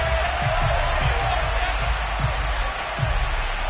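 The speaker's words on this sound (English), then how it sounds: "This home crowd, they're happy with that call." A home crowd at a football game roars steadily in broad, continuous cheering that fills the space, with rhythmic low thumps underneath, loud and sustained throughout.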